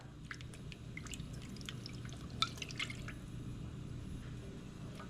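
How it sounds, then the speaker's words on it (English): Broth pours and splashes into a pot, with a steady trickle and a few louder drips partway through, close up and without talk. "And here's the broth. You could use the broth or you could use water."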